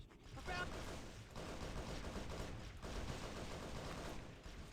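Assault rifle fire in the shooter game Halo SPV 3 plays as sustained rapid bursts over a busy game mix, with fairly steady loudness and a few brief breaks between volleys.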